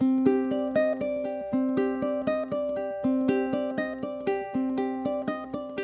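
A ukulele plays The Walking Dead theme alone, bright plucked notes and strummed chords ringing out in a steady, moderate rhythm at close range.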